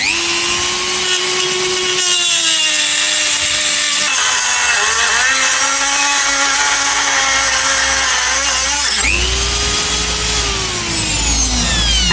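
An angle grinder's cutting disc slices off excess metal while fabricating an external hood release, a loud continuous high-pitched whine that dips in pitch as the disc bites into the steel, briefly stops, then spins back up and runs on alone.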